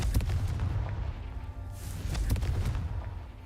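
Confringo blast spells from Hogwarts Legacy combat, several booming impacts with sharp cracks layered over a rumbling low-end battle din, loud and close.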